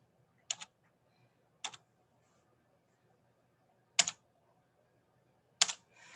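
Four sparse, separate keystroke bursts on a computer keyboard while entering input into Desmos, each a short double click spaced about a second apart, close and fairly quiet over a low steady hum.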